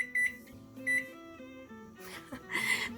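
A microwave oven timer chirps with a few short, high electronic beeps spaced across a couple of seconds, over faint tonal background sound.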